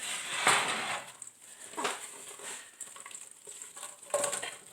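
Chopped onions tumble into melted Kerrygold-style Irish butter in a pan, a cluster of soft patters and clatters with a few scraping kitchen-utensil knocks spread over several seconds, close and moderately quiet with no talking.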